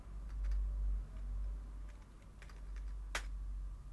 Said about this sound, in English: This is the username that I type at the moment.